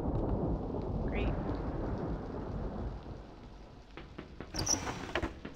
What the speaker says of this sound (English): Sound of a storm's nice.